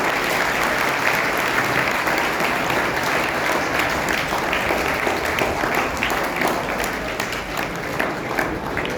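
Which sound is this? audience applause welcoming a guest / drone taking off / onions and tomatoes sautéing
audience applause welcoming a guest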